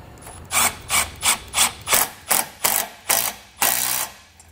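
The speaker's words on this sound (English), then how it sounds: "now we're going to tighten down our band clamp." A ratchet tightens a band clamp on a trailer hitch with about ten evenly spaced, close, crisp clicking strokes and no other sound.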